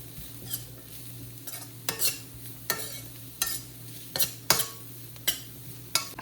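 Carrots and cabbage being stirred in a pan for Jain noodles, with repeated close scraping strokes of a spoon against the pan about once a second over a soft sizzle.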